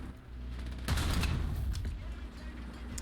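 Hull-mounted machine guns on a T1E1 heavy tank in War Thunder fire in a rapid rattling burst among loud in-game combat noise, with the engine droning underneath.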